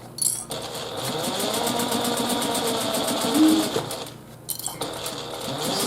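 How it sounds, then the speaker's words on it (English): A sewing machine stitches the curve of a small fabric pouch with a steady, rapid near whir that pauses briefly twice for a pivot, then resumes. "Sewing on our last little curve for this bag"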